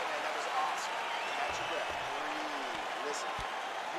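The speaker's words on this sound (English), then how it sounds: "So the crowd voicing its appreciation after that round" Crowd applause and cheering after a round in a UFC 4 video game fight, a steady wash of clapping noise throughout, with occasional light thuds and tones.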